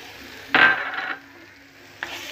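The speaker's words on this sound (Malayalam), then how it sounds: "ഇളക്കിയിട്ട് ഇളക്കി നന്നായി വഴന്ന് വരുമ്പോൾ നമ്മൾ ചെമ്മീൻ ഇടണം." Prawns frying in a pan for a simple prawn curry, heard as a sudden scraping stir with a burst of sizzling that fades into a soft, steady sizzle, followed by a second brief stir.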